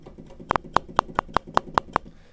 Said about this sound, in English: I like to use the kick drum, and that sounds like this.